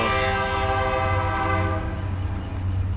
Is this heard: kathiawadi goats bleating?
no